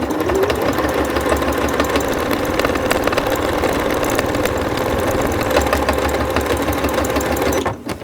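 Sewing machine running steadily for about eight seconds, topstitching bias binding 2 mm from the edge on a child's rain cape, a close, even mechanical whir that stops abruptly at the end.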